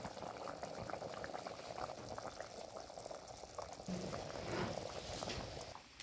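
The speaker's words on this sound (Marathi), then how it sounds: "आता याला खळखळून कशी उकळी आली बघा।" A pot of corn, sev and tomato curry boils vigorously, with dense continuous bubbling and gurgling close by, growing slightly louder near the end.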